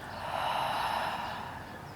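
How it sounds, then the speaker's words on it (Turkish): A single slow, breathy exhale through the mouth, soft and close, rising and then fading away. "Tekrar derin bir nefes al. Nefesi ağızdan boşalt."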